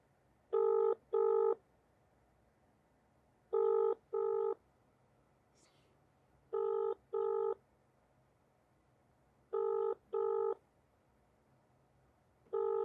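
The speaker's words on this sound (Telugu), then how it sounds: "సాధారణంగా నా కాల్ లిఫ్ట్ చేస్తారు ఆయన, ఏమో ఈరోజు కాల్ లిఫ్ట్ చేయలేదు" An unanswered outgoing phone call rings back in paired electronic tones, repeating evenly about every three seconds, clear and isolated over a quiet background.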